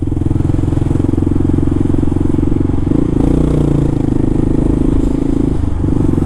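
A Kawasaki KLR motorcycle engine idles loudly and steadily nearby in a parking lot, its low rumble briefly rising in pitch partway through, with no talking.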